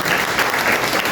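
A church congregation claps together in a dense, loud burst of applause that fills the room evenly throughout this short moment.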